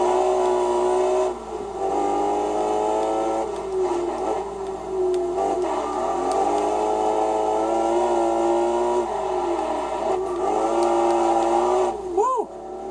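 Racing car engine from the Test Drive Unlimited video game, a loud sustained whine whose pitch rises and falls as it accelerates through gear shifts, with a sharp high sweep near the end.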